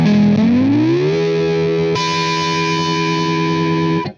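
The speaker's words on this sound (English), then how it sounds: "That is an overdrive. I also mentioned that I have a pitch shifter there." A distorted electric guitar chord through an overdrive and pitch shifter pedal sustains with a heavy overdriven tone, bends up in pitch, then jumps higher and rings loudly before cutting off.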